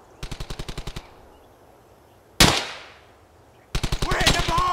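Machine gun fire in the World War II shooter game Brothers in Arms: Hell's Highway: a quick burst of about eight close shots, a single loud blast with a long decaying tail, then another rapid burst.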